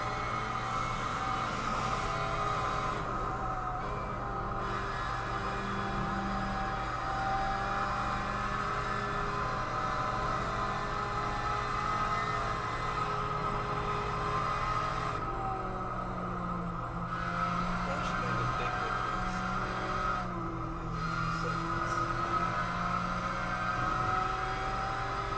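A race car engine in a 24-hour Le Mans endurance race drones steadily at moderate level for a long stretch, with slight pitch wavering and a faint high whine above it.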